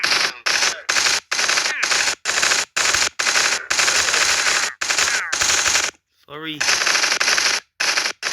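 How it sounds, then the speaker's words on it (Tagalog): A P90 submachine gun fires in a Minecraft game, loud close bursts of rapid automatic shots broken by short pauses, with a brief spoken word between them. "Try natin tong P90."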